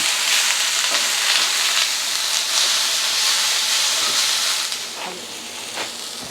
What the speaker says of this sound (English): Get our peppers and onions. We'll saute these down.